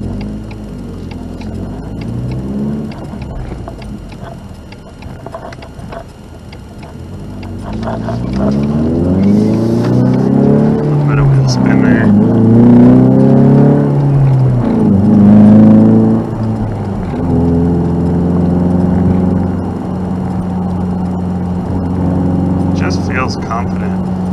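A 2020 Ford Mustang EcoBoost High Performance with manual transmission revs its engine, the pitch climbing and falling in several sweeps, loud and close, while a person talks over it.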